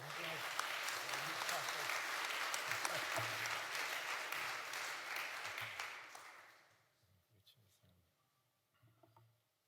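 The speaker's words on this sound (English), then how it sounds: "give him a clap" An audience at a Westminster session on wildlife management claps steadily for about six seconds, then the applause fades out, leaving faint scattered sounds and a few low voices.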